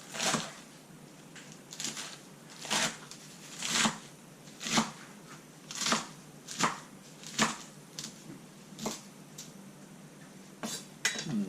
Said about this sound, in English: I'm gonna do half of this iceberg lettuce. Just chop it up, more pieces.